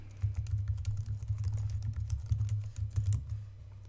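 Fast, steady typing on a computer keyboard while entering an email address, with close, continuous clicking alone and no talk.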